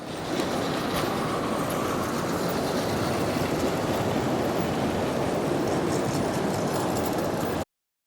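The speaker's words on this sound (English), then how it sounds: "A short train shuttles back and forth, servicing each of the ovens." A short model train shuttling between coke ovens on a layout gives a continuous, even rumble and rattle for several seconds, moderately close, then stops abruptly.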